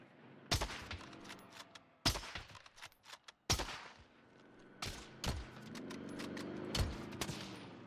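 In the Warzone shooter game, a sniper rifle fires about half a dozen sharp, loud cracks at irregular intervals, each trailing a short echoing tail over a low background.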